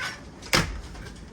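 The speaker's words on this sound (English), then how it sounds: "I'm gonna shut this door." An RV entry door swings shut with a single solid thud in the middle, set against a windy, breezy outdoor background.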